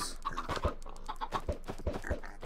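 Chickens in the Minecraft game cluck in short, repeated bursts, several calls spaced across a few seconds, close and clear with nothing else over them.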